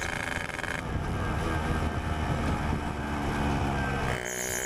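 A hot PTT Hi-Speed two-stroke motorcycle engine runs loudly and steadily up close, a continuous raspy exhaust drone that shifts pitch slightly near the end.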